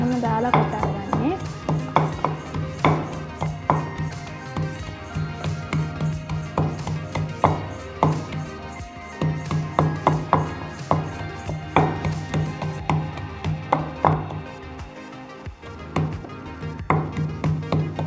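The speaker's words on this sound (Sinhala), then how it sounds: "ගොඩක් අය නම් මේවා එකට දාලා කොටන්නේ මම වෙන වෙනම දාලා කොටන්නේ" Cooking ingredients pounded separately, likely in a mortar, a steady run of close, sharp thudding strikes repeating for the whole stretch over a low background hum.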